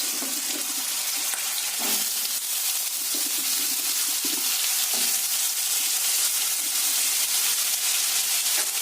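Potatoes frying in mustard oil in a pan, a dense, steady, loud sizzle running throughout with a few faint stirring clinks, no voices.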